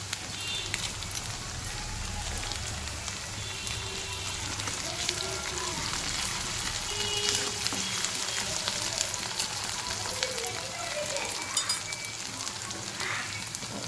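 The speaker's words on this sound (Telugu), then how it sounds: "ఫస్ట్ ఎండుమిర్చి చేయాలి, లేదంటే అవి వేగవు." Dried red chillies frying in a pan, a continuous soft sizzle and crackle with scattered pops, moderately quiet and steady throughout.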